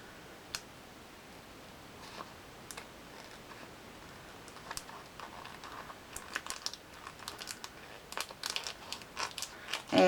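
A handmade craft bookmark being trimmed, with a scatter of light, close clicks and crinkly snips that start sparse and grow busier toward the end, with no voices.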